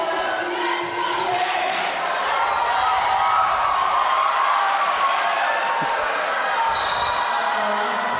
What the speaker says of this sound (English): the crowd in the venue is quite excited to see this as well